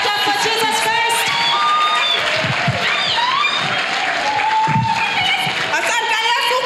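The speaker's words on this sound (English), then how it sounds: "Clap, clap for Jesus first." A church crowd at a healing service claps and cheers loudly and continuously, with shouts and whoops rising over the applause and voices mixed throughout.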